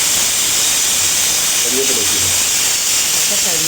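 Dried red chillies hit hot oil for a Kerala beef roast, producing a loud, steady, close-up hiss and sizzle that runs unbroken from start to finish.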